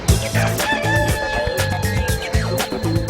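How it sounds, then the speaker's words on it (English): A rooster crows loudly and close by, with fowl clucking mixed into a busy, rhythmic background and no one speaking. "He's one very switched-on rooster"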